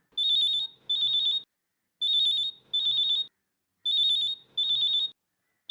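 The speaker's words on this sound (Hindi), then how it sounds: "किसका फोन है?" A phone rings with an incoming call in a home setting, an electronic chirping tone sounding in paired bursts that repeat steadily three times, clear and fairly quiet with no talk over it.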